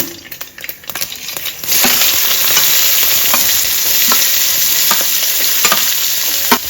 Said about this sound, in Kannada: ಇವಾಗ ಈರುಳ್ಳಿ ಹಾಕ್ತಾ ಇದ್ದೀನಿ